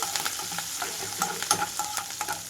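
Ginger, garlic and green chillies fry in hot oil for cabbage fry, giving a bright, close, crackling sizzle with quick rhythmic stirring scrapes.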